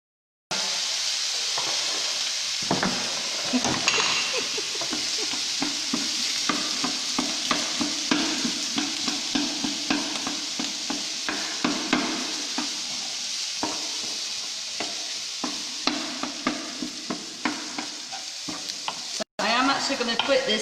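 A stir fry with sesame oil and soy sauce sizzles steadily in a hot pan. A utensil scrapes and stirs against the pan in a repeated rhythm throughout, and near the end there is a brief break.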